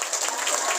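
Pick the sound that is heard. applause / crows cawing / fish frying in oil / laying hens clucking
applause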